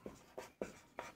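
Four short scratchy pen strokes mark out numbers on a surface during a lesson, quiet and close, evenly spaced with brief pauses, no talking.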